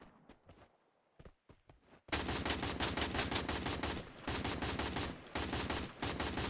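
Rapid gunfire in the Free Fire Clash Squad battle game, bursts of close, loud shots crackling continuously after a few quiet thuds, with short pauses between volleys.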